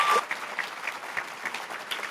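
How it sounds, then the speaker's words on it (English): Steady applause from an audience honoring a basketball player's mothers during an interview event, a dense wash of many hands clapping at even loudness throughout, with no talk over it. "Give them a round of applause"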